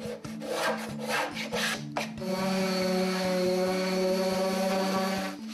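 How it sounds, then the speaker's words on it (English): Quick rasping strokes sand the wood grain of an old haberdasher's cabinet, then give way to a steady whining tool drone that runs close and loud to the end. "Sanding the grain takes it down to its original form."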